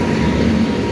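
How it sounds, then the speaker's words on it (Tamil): A train rolls past close by at Chalakudy railway station in Kerala, a loud, steady rumble of wagons filling the whole moment without any pause. "எங்களை தாண்டி ஒரு ட்ரெயின் போச்சு."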